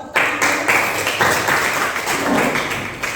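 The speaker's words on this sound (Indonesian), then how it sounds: "Iya, tepuk tangan." A classroom of students applauds during a lesson on Indonesia's financial services authority, a steady broadband patter of clapping that runs for about three seconds at moderate loudness, with no talk over it.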